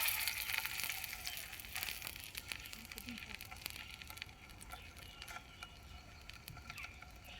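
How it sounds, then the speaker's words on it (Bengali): Fish fries in hot oil, a faint, steady crackling sizzle with small scattered pops throughout. "তেলে কিন্তু মাছটা ভাজা শুরু হয়ে গেল"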